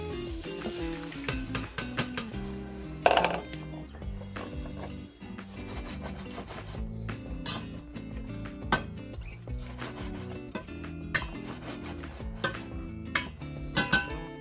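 Canned corn kernels tipped into a hot pan of sautéed onions on high heat, with scraping and stirring of a utensil against the pan over a low sizzle, close and moderately loud, no talking.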